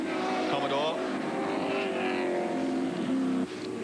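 Holden Commodore touring cars, including the Jones Mulverhill car, race past on track in 1986 AMSCAR competition, a steady engine drone with rising and falling pitch as they go by, under a commentator's talk.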